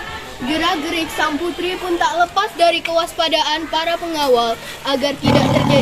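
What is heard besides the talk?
tiger roaring, sound effect in a drama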